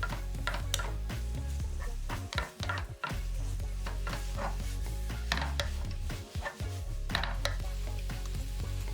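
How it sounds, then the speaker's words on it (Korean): Dried shredded squid and fish cake stir-fry in a pan with vinegar and corn syrup, a steady close sizzle broken by repeated scraping and clattering of the utensil against the pan, with no talking. "오징어채 어묵 넣고 잘 볶아주고"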